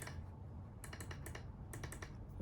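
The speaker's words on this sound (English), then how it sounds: "More of a clicky button now." A button on an Xbox Series X pressed several times, giving a few crisp, quiet clicks in small clusters over a low background hum.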